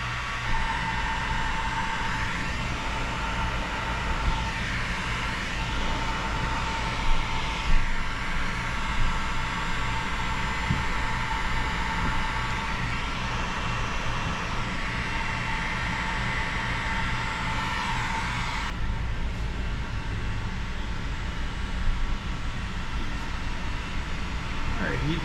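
A heat gun warming paint protection film on the hood of a 2024 Ford Bronco gives off a constant loud, airy blower roar that holds steady throughout and drops in tone slightly near the end.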